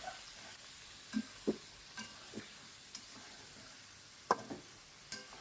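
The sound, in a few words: chicken stirred and fried in soybean oil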